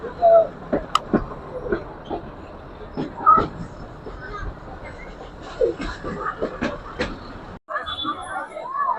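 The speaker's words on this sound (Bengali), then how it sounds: "এই যে আমাদের ট্রেনের ইঞ্জিন দেখা যায় ওখান থেকে" A local commuter train runs on the Burimari to Bogura line in Bangladesh, a steady rumble with rattles and clanks, while people talk nearby.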